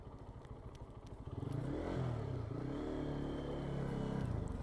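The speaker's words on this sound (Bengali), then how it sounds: "আমরা বিচির পাড়েই যাব বাইক নিয়ে" A motorcycle on the way to a beach in Chattogram idles with a low rumble, then grows louder and steadier as it pulls away, close and heard alone.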